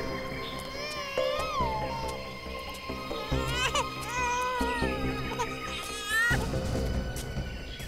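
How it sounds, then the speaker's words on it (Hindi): In a TV crime drama jungle scene, a baby cries in wavering, rising-and-falling wails that repeat over a dramatic music score. "उस तरफ से बच्चे के रोने की आवाज आ रही है।"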